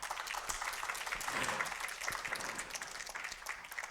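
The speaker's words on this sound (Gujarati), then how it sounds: "તાળીઓ પાડો" An audience at a Swaminarayan religious discourse (katha) claps together: a sustained, fairly distant round of applause that swells slightly midway and then holds steady.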